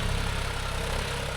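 A John Deere 5105 4WD tractor engine running in a dryland field while pulling a 9-point cultivator, giving a constant, even, rumbling drone up close with no pauses.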